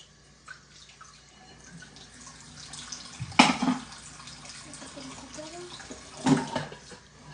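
Dishes washed at a kitchen sink under a running tap: low trickling water with two louder splashing surges, close by, and faint voices in the background.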